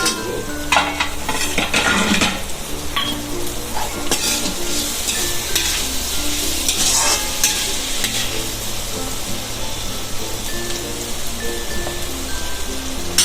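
Tomatoes fry loudly in a pan over a high gas flame, with a dense, constant sizzle and crackle. Stirring scrapes mix in throughout, close up and with no voices.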